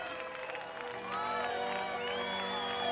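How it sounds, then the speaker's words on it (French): An audience claps and cheers as a winner is celebrated, a dense wash of applause with scattered whoops that swells louder partway through, mixed with voices and music. "On l'applaudit bien fort."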